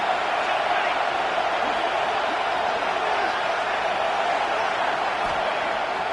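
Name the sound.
football stadium crowd getting louder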